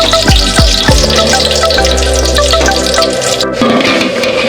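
Bay leaves and cardamom hitting hot oil, a loud, close crackling sizzle opening with a few sharp pops, then settling into steady spitting and hissing with a faint tonal hum.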